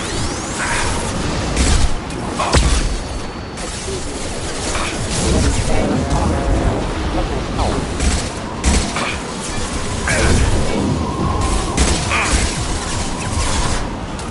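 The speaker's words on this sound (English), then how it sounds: "Watch out, flashbang!" A flashbang grenade detonates in the Mass Effect 2 combat game, set among a dense, loud battle wash of crackling impacts, bangs and whooshes, with several sharp bursts standing out against the continuous din.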